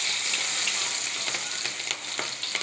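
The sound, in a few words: onions added and frying in a pan with cumin and mustard seeds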